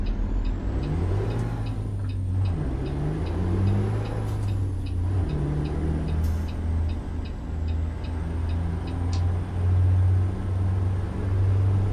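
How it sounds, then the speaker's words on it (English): Modded Detroit Diesel Series 60 12-liter truck engine in American Truck Simulator, a steady loud low diesel drone with shifting pitch and brief air-brake hisses, continuous throughout without talk. "Sounds like a DD60. This is Detroit Diesel 60."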